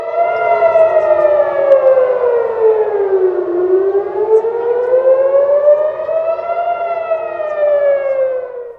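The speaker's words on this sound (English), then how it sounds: "Sirens screamed as every phone in Israel sounded the Category 1 alarm for a missile attack" A civil defense missile-attack siren wails over Tel Aviv, its loud tone sliding down and then climbing back up in one long, continuous sweep.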